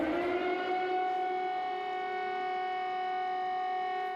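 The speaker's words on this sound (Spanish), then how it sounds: "Sirenas que desde el jueves comenzaron a sonar en Kiev y otras ciudades de Ucrania" Air raid sirens wail over Kyiv, Ukraine, a loud, steady civil-defense tone holding one pitch with rich harmonics, ringing out alone across the city.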